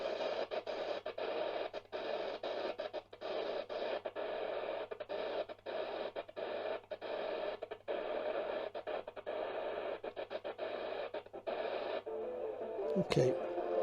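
Harsh, continuous shortwave static on the 31 meter band from a TEF6686 receiver with an external antenna, broken by rapid choppy dropouts while tuning, ending in a brief squeal near the end.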